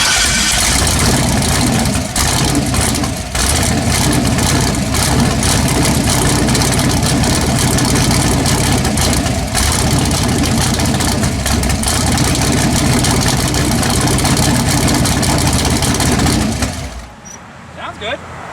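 An LS engine swapped into a Chevy S10 truck runs loud and close with a steady, rumbling drone, then cuts off near the end. Voices talk over the running engine.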